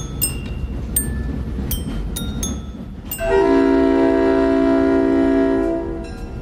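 Train running along the rails with rhythmic rumble and squeals, then a loud sustained horn blast of about three seconds before the rolling noise carries on.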